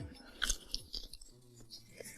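Close, crunchy chewing as someone bites into and munches a fresh cucumber, with a few sharp bite crunches over a quiet background.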